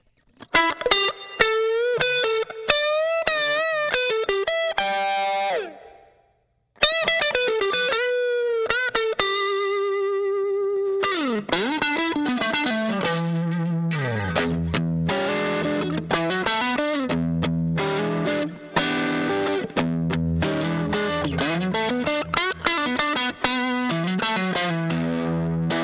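Electric guitar played through the Classic Distortion (Rat) model of a Line 6 M13 effects unit into a VHT Special 6 amp, distorted chords and riffs ringing alone with a brief pause, no talking.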